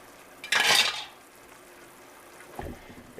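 A lid clanks down onto a pan of sausage cooking in oil and water on a stovetop, one short metallic clatter with a soft sizzle, then a faint second knock moments later.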